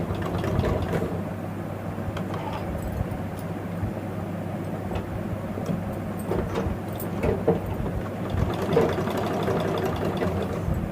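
A sewing machine runs steadily, stitching old saree fabric being made into a nightie, with a continuous mechanical whir and a rapid rhythmic needle patter heard close up and alone.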